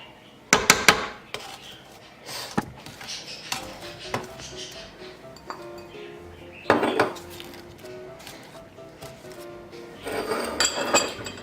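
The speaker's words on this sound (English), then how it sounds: "Make sure you scrape down the sides of your bowl as you're mixing." Lemon poppyseed loaf batter being mixed and scraped down the sides of a bowl, with irregular clinks and scrapes of a utensil against the bowl, some sharper knocks, and no talking.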